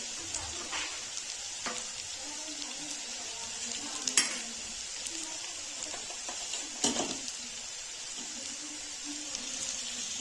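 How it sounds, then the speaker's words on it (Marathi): Ground masala frying with softened tomato in a pan, a low continuous sizzle with occasional scraping stirs and a couple of sharper utensil knocks, fairly quiet and close, with no voices. "हा आपला वाटलेला मसाला टाकत आहोत"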